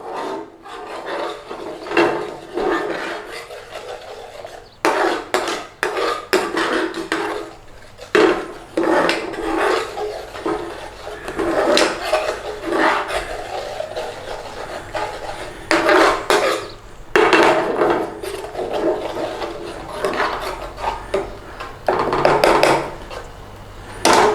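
A spoon scraping and stirring chicken tikka masala with base gravy in a hot pan, repeated rasping strokes in uneven bursts with short pauses, close and fairly loud.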